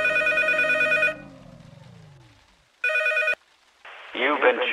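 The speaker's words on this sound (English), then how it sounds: "Once the phone rings, zoom in on it." Two bursts of an old-style telephone bell ring out loud and clear in the horror game P.T., one long and one shorter, with eerie game ambience between them and a short voice-like sound near the end.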